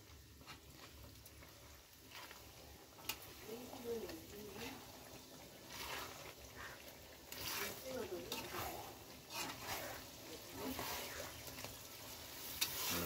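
Akbare chili paste is stirred in a hot pan, giving quiet sizzling and soft scraping strokes, with a voice talking at times over the cooking.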